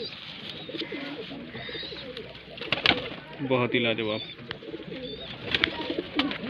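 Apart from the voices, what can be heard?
pigeons cooing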